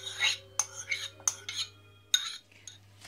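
Potato salad with mushrooms, cucumbers and onion being mixed in a bowl, with a few scattered clinks and scrapes of a utensil against the dish, close and fairly quiet, with short pauses between strokes.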